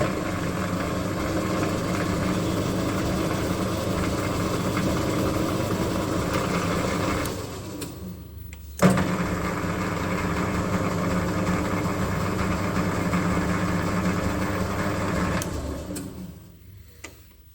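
A lathe plunge-cuts a thread with thread oil on a part for a Kasto EBS 400 power hacksaw, giving a steady mechanical hum with faint ticking. The hum drops out briefly near the middle, returns with a sharp knock, then fades at the end.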